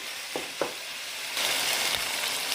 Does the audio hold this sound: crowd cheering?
no